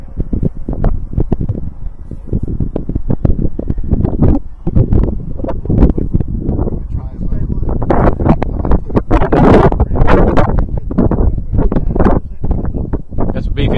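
Gusty crosswind buffets the microphone at a model jet airfield, a steady loud rushing roar with rapid flutter bursts throughout.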